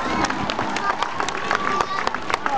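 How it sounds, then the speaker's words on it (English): An audience claps and cheers after a sea lion demonstration on a field trip, a busy spread of hand claps mixed with crowd chatter and a voice talking over it. "So how about another round of applause for a sea lion brand?"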